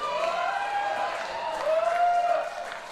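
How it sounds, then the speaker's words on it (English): Fans of Pilipinas Dragons FC applaud at a football match against Maharlika Manila FC, a steady wash of crowd clapping and noise with sustained tonal voices over it, swelling slightly toward the middle. "Pilipinas Dragons fans applauding the effort."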